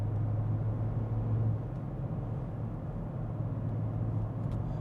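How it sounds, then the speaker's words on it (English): BMW M5 with a V8 and an aftermarket catback exhaust, valves closed in comfort mode, gives a steady low rumble that holds evenly throughout, subdued and droning softly with no voices over it. "You do hear a rumble in the background, but this is the non-resonated version."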